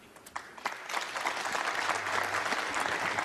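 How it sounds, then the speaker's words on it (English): Applause breaks out at a snooker match between Ding Junhui and Judd Trump, starting with a few scattered claps and quickly swelling into steady, full clapping from the audience. "an applause for frame ball"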